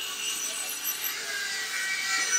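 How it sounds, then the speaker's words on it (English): Factory machinery sanding and shaping exercise weights, giving a steady, fairly quiet grinding and rubbing hiss that runs through the whole clip without pause or speech. "what we just showed over there is the process of the weights getting sanded down and made into the right shape"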